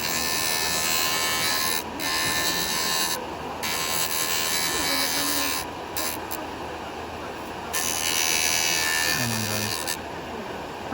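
A JOOLTOOL grinder with an 80 grit abrasive grinds a 75-year-old chisel, a steady high buzzing whine that runs in bursts, briefly dropping off and coming back over about eleven seconds.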